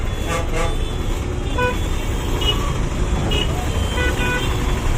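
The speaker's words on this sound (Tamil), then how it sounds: "நம்ம டிராஃபிக்ல வெயிட் பண்ணிட்டு இருக்கோம்" Car horns honk repeatedly in traffic waiting at a signal, several short toots and a longer blast rising over a loud, constant rumble of engines and road noise.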